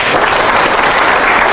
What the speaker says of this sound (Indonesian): berarti kita tepuk tangan sama dia.